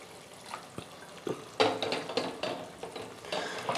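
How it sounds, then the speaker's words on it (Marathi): Half a glass of hot water goes into a pan of spiced potato bhaji, giving a soft sizzle and splashing hiss with light stirring scrapes, moderately quiet and close, with no talking. "इथे थोडं अर्धा ग्लास पाणी मी गरम करायला ठेवले होते ते टाकून घेते."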